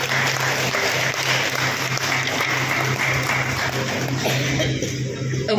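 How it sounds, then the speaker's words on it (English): Audience applause for a guest at an event in Guwahati, a dense, steady wash of clapping that holds at an even level throughout and thins slightly near the end. "A warm round of applause for Sri Soklet's inspiring journey, please."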